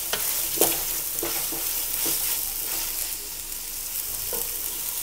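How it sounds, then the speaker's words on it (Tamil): Ginger garlic paste sautés for mutton kola biryani, frying with a steady close sizzle while a spoon scrapes and stirs the pan in several distinct strokes, with no voices present. "நல்லா இஞ்சி பூண்டோட ஸ்மெல் மாறுற வரைக்கும் வதக்கிக்கலாம்."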